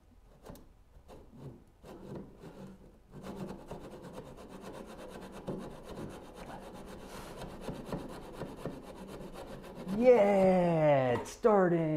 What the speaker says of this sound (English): That means we can saw this guy going fairly good.